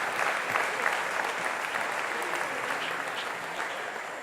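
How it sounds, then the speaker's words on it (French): A church congregation claps steadily throughout, a dense and fairly even wash of applause at moderate loudness. "Est-ce qu'on peut applaudir Jésus-Christ?"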